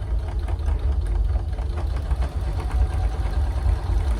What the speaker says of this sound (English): you put it back under the machine and you sew that piece from the end where we connected them down to the quilt